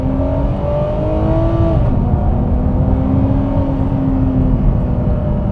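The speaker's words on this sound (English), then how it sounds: "Those downshifts. Drop from third down to second is just glorious." Ferrari 599 GTO V12 engine revving hard through downshifts from third to second on a wet road, a loud continuous blipping snarl with shifting pitch from start to end.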